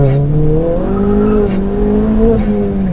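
A 310 bhp Ford Fiesta ST's engine pulls hard under acceleration, a loud, steady, rising engine note heard from inside the car with no talk over it.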